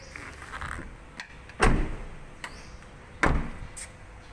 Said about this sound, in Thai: มือเปิดประตูนะคะ แข็งแรงอยู่ในสภาพเดิม ๆ เลย